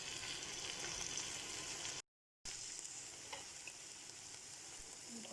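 Potatoes being stirred and fried in a pan for dum aloo, a dense continuous sizzle close by, briefly cut to silence before resuming, with no talking.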